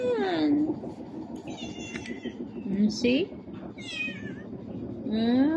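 A cat meows repeatedly up close, several drawn-out, rising and falling cries from a pregnant stray, while a person speaks briefly between them.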